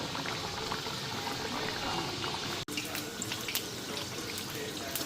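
Carrot snacks frying in a pan of oil give a steady, dense sizzle and crackle throughout, with one brief dip partway, and faint voices in the background.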